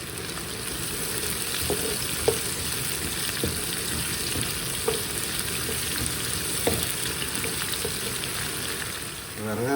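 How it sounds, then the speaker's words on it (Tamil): Chopped onions and fennel seeds sauté in a pan, a steady broadband sizzle with scattered clicks of stirring throughout, fairly even in loudness, with no talking. "இப்போ இந்த வெட்டி வச்ச வெங்காயத்தை போடுறீங்க, இந்த நச்சீரத்தையும் போடுறீங்க, நல்லா கோல் ப்ரௌனாக வர மட்டும் வதக்குறீங்க."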